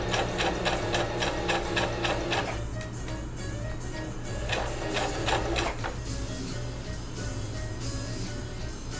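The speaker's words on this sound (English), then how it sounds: "And then from there, you just sew on that line." A sewing machine running a line of stitches on a dress, close bursts of rapid rattling needle strokes over a steady motor hum, speeding and pausing in two runs.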